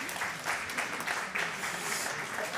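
Hand claps ring out in a curling club's warm room as a player comes off the ice during a US Mixed Nationals semifinal, a steady patter of applause filling the space with faint voices beneath.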